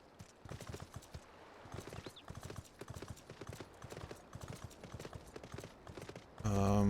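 Hooves of the Sleipnir horse mount in Final Fantasy XIV, a steady clip-clop rhythm of many quick footfalls at moderate level, ending in a brief louder burst of game sound.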